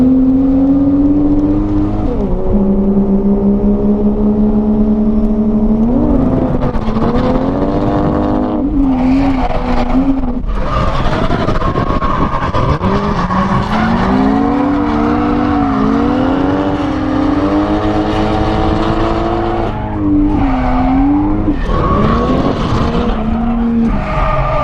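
A Toyota JZX90 drifting, its engine revving hard and rising and falling through gears while tires squeal in long sweeps, loud and continuous with brief dips between slides.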